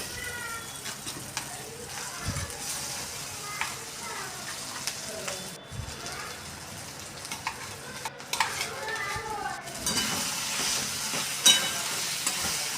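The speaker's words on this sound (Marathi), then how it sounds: "आता आपला कांदा हा छान असा परतला आहे मग त्यात आपण टाकला ठेचा" Onion and thecha, a crushed green-chili paste, sauté together in a pan, giving a steady close sizzle with scraping spatula strokes and scattered knocks against the pan throughout.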